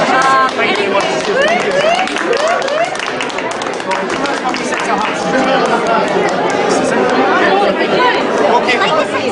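A close-up magic audience at the Hilton in Dunblane claps and chatters after a card trick, a dense wash of applause and babble filling the room, steady and loud throughout.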